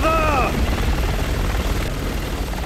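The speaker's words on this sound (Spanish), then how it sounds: "Ese helicóptero está a punto de abrir fuego." A helicopter passes overhead in the video game Resident Evil 6, a loud, steady rotor roar that fills the scene, with a brief rising whine at the start.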